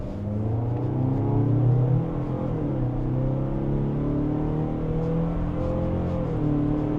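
A 2025 Mazda CX-90 PHEV's engine labors under hard acceleration from inside the cabin, a loud steady drone with rising and shifting tones across several gear changes, continuous for the whole stretch with no talk.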